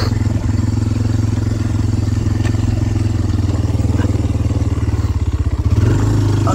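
Kawasaki KLX230R dirt bike ridden on backwoods trails, its single-cylinder engine droning loud and steady with throttle pulses, clattering over rough ground and revving harder near the end.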